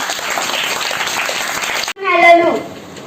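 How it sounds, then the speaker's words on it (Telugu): A school audience at a Telugu Language Day celebration in a primary school claps loudly for about two seconds, a dense burst of applause that cuts off abruptly, followed by a voice speaking. "సూపర్ క్లాప్స్ కొట్టండి గట్టిగా"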